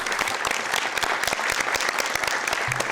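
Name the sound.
applause for Andres Chavez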